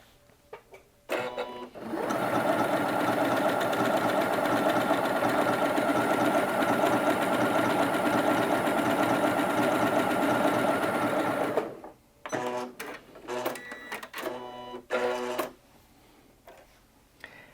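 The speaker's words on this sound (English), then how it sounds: "the machine will pull the bobbin thread up to the right side to create what look like hand sewn stitches" A Janome Atelier 7 Anniversary Edition sewing machine runs a hand-sewn-look stitch in one steady, loud whirring burst lasting about ten seconds, then stops and gives several short, clattering runs and mechanical clicks.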